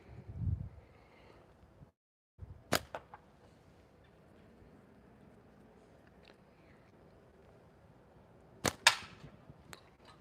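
A wooden slingshot fires clay ammo at a can outdoors, giving two sharp, close cracks of impact about six seconds apart, each with a brief rattling tail, over a quiet background.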